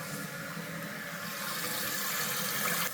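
Water rushes steadily into a toilet tank through a newly installed fill valve, a continuous close hissing flow with no voices.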